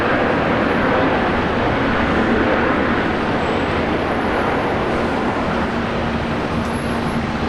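A Velocity 314 airliner on runway 19 left at Brisbane Airport gives off a loud, steady broadband jet roar that holds evenly throughout, with a faint sustained hum beneath.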